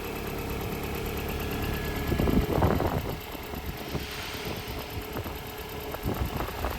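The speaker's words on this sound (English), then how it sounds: "That's a really smooth running engine." A 1.4-litre K-series engine in a retro car idles with a smooth, steady low hum, heard close, with a few soft clunks and a brief swell partway through.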